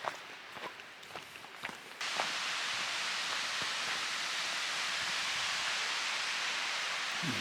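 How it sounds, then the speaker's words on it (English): Steady roar of water pouring over Jones Mill Run Dam in Laurel Hill State Park, a broadband wash that swells in abruptly after a couple of seconds of footsteps and light rustling, then holds loud and unbroken. "I can hear water coming over the dam right now."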